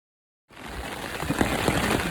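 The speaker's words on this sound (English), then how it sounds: "Yes, it's absolutely raining out." Steady rain begins abruptly after a short silence on the Appalachian Trail, a dense hiss of falling drops with occasional louder patters, close and constant.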